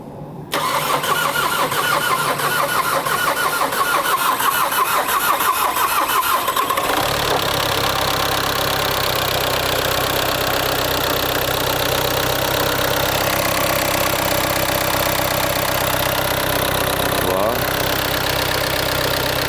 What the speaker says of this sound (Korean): 자, 다 마무리 됐으니까 시동 한번 걸어보자.